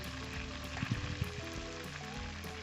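Chicken pieces frying in hot oil, a quiet steady sizzle with soft crackles and pops, heard close and low in level.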